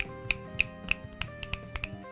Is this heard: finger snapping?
yes